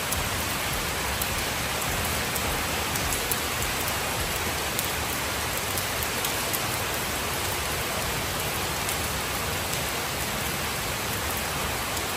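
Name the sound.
rain falling outside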